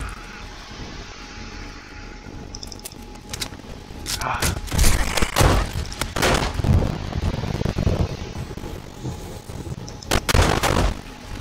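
Gunfire rings out during horde night in the zombie survival game 7 Days to Die, with bursts of sharp shots and heavier blasts in an irregular volley, loudest in the second half, alongside game ambience.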